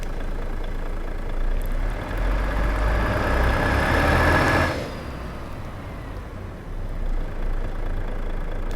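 A Volvo FH truck with a D13K460 Euro 6 engine idles nearby with a steady low rumble, swelling slightly in the middle before settling back to an even idle.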